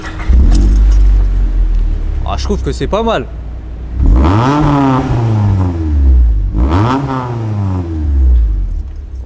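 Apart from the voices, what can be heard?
Honda CRX del Sol VTEC engine starting and revving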